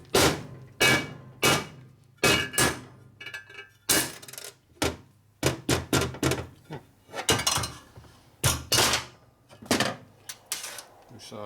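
A hammer beats on a metric socket to knock a bearing out of a 1992 Harley 80ci Evo motor case, giving a dozen or more sharp metallic clanks in an uneven rhythm, close and loud, with short pauses between strikes.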